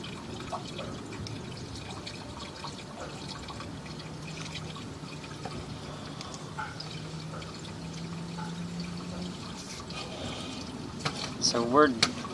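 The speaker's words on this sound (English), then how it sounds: "you can see the water is draining out and down the system" Water running and draining through a residential sewer pipe during a camera inspection, a steady low trickle and pour with a brief burst of splashing near the end, under faint background noise.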